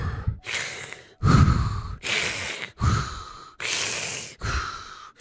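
A person imitates Darth Vader's heavy mechanical breathing, with six long, loud, close inhale and exhale rasps alternating in a steady rhythm and no talk over them.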